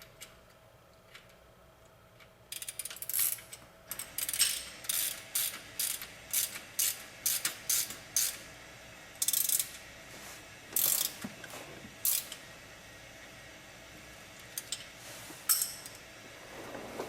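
A ratchet wrench tightens the bolts holding an electric motor in a Porsche 912 EV conversion, with bursts of quick clicking strokes in an irregular rhythm, close and fairly quiet, with no talking.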